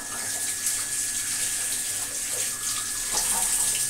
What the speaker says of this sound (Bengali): চিকেনটা ধুই